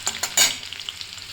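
Onions fry in oil in a pan with a close, crackling sizzle, a few brisk scraping stirs at the start, then settling into fainter, scattered pops.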